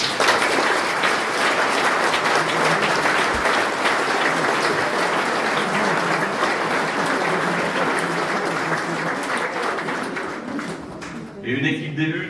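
Long, steady applause from a hall audience for elected officials at a municipal New Year's greetings ceremony, dense and loud clapping that fades slightly near the end.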